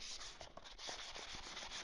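Quiet, steady rubbing of 400-grit sandpaper worked by hand over old-school Thrush aluminum side pipes, a soft continuous scratchy swish with faint back-and-forth strokes.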